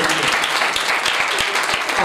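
Church congregation applauding at a sermon, loud dense clapping with sharp individual claps standing out, alongside a voice.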